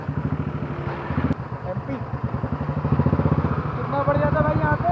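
Motorcycle engine on a rough, broken mountain road on the way back from Kedarnath, a loud close rumbling putter that rises and falls as the bike bumps along, with people talking over it.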